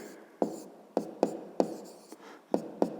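A pen writes a math solution by hand on paper in a quiet room, with short scratchy strokes and sharp taps at an irregular rhythm, about eight distinct marks.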